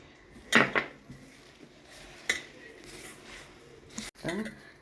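Mashed ripe banana kneaded with rice flour in a bowl, with scattered clinks and scrapes of a utensil against the bowl among softer handling noises, under quiet talk.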